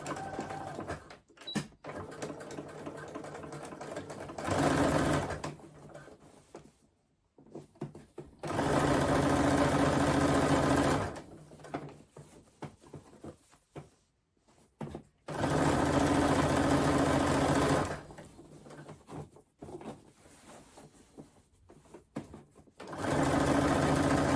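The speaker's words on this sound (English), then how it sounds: "So I'm all ready to sew now." A sewing machine stitching a crossbody bag strap runs in four loud bursts of rapid, steady whirring, each several seconds long, with quiet handling pauses between them.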